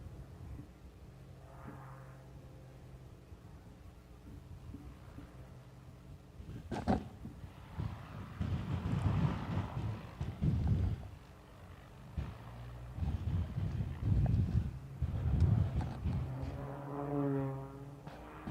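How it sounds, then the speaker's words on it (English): An Extra aerobatic plane, German-built for aerobatics, drones through maneuvers at the SUN 'n FUN Aerospace Expo 2022 air show, its distant propeller engine fading low, then swelling into loud surges that rise and fall as it passes overhead. "Hear the roar of that engine."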